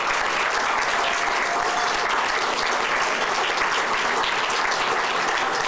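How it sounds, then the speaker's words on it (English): Audience at a gala breaking into sustained, dense applause, loud and even from start to finish with no voices over it. "let's give them all a big round of applause"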